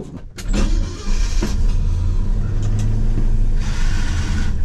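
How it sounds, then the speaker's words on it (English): Worn, noisy power steering pump on a 1982 Ford F150 running with the engine idling, a loud continuous whine and drone heard close up, steady throughout with no talking. "Kind of noisy. I don't know how old this power steering pump is, but it needs to be replaced."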